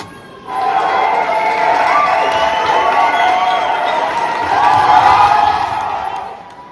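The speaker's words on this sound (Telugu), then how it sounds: "చప్పట్లు కొట్టండి, ఈలలేయండి, కేకలేయండి" A large crowd at a Bonalu celebration in East London erupts in cheering, shouting and whistling, a loud sustained roar that swells again before fading out after about six seconds.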